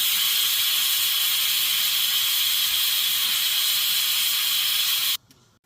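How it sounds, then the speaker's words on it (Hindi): A loud, steady hiss of steam from a pressure cooker whistle in a home kitchen carries on without a break for about five seconds and then cuts off abruptly. "कुकर को मैंने बंद कर दिया है और 2 व्हिसल लगाऊँगी।"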